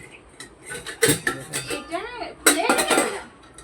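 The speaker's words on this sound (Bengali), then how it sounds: "সামান্তা দেখো তোমাদের দিদিভাই নতুন লোহার কড়াই বের করবে পিঠে তৈরি করার জন্য" A new iron wok is pulled out from among stacked pots and pans in a home kitchen, with several sharp metallic clanks and rattles in bursts while a person speaks nearby.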